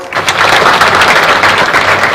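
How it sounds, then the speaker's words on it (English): An audience at an international investment conference in Kisumu gives a burst of loud, rapid, crackling applause close by, with no talking over it. "Could we again give them a round of applause?"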